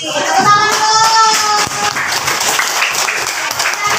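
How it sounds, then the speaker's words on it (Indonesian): A classroom of students claps together, brief lively applause mixed with taps and shuffling, with a voice talking over the start. "Tepuk tangan dulu"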